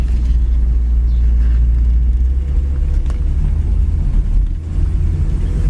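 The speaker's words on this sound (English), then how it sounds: "Car's nice and quiet as far as the running of it." A 1965 Ford Thunderbird's engine runs at a smooth, quiet idle, a steady low rumble that stays constant throughout with no revving.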